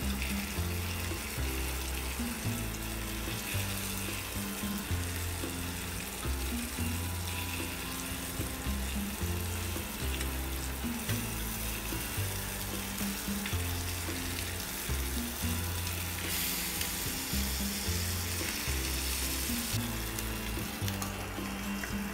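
Breakfast fries in a pan with a dense, continuous sizzle that stays steady and close throughout, overlaid by a low rhythmic rumbling.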